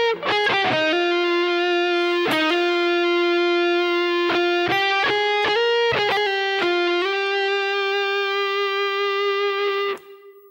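Distorted electric guitar plays a figure, with sustained, singing lead notes, quick slides and short bursts of faster notes, then a long held tone that cuts off near the end, close and alone.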